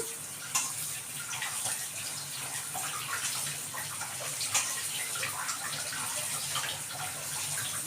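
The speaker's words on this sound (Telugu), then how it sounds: "ఇలా ట్యాప్కిన్ పెట్టేసి అయితే నేను కడిగేస్తున్నాను" Kitchen tap runs steadily as keema ingredients are washed beneath it, a continuous close splashing water sound with no talking.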